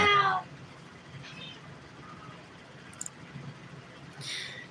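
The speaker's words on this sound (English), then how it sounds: "cats are up at night" A cat gives one short meow at the start, followed by a couple of faint higher cries later, with a quiet room hum between them.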